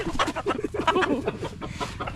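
A young white tahod gamecock clucking close by in a quick, choppy run of short calls, fairly loud and alone.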